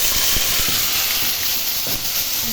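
Constant hiss and sizzle of spice masala frying in hot oil in a pan with dried red chillies and cumin, with a few faint clicks and pops scattered through the close, steady frying noise.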